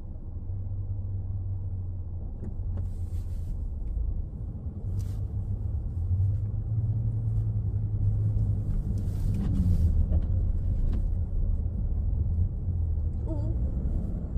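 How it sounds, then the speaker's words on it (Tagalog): Heavy low rumble of a large truck running alongside on a snowy road, a steady close drone with engine and tire noise lasting throughout, with faint voices briefly heard over it. "Ang lalaki ng truck."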